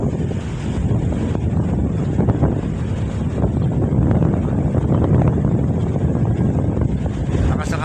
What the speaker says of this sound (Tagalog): Lakas ng habagat mga kapising.